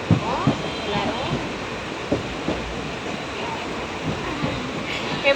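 Passenger train running from Chennai to Palakkad, a steady rumbling ride with periodic clacks and knocks, with family voices talking over it throughout.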